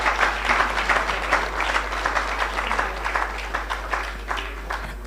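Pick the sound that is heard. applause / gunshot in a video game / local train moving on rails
applause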